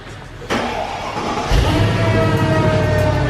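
A supercharged Mercedes-Benz engine cranks with a starter whirr and catches about a second later, settling into a loud, steady idle with a rising supercharger whine.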